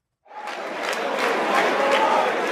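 Crowd cheering at a SpaceX Falcon 9 rocket launch, a broad roar of many voices swelling quickly and holding steady, fairly loud and unbroken.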